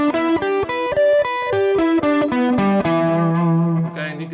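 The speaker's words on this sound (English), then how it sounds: "in this scale, I like this minor 7th arpeggio" An electric guitar with effects and light distortion picks a minor seventh arpeggio, single notes rising and falling in a steady run before ringing out.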